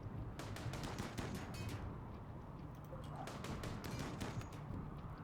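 Rapid bursts of gunfire crackle in the video game RimWorld as colonists shoot at an enemy power supply, with clusters of shots in quick volleys, moderately faint, separated by short pauses.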